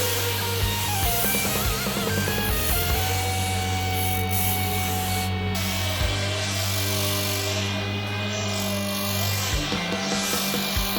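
Belt grinder cutting into a chrome bumper with grease applied to the belt, a steady loud grinding with a constant low hum and layered tonal whine that shifts slightly as the work is pressed, running continuously throughout.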